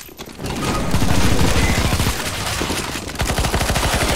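Rapid automatic gunfire from a CSGO zombie escape match on the ze_A_E_S_T_H_E_T_I_C map, dense and loud bursts rattling almost without pause for about four seconds, with a sharper run of distinct shots near the end.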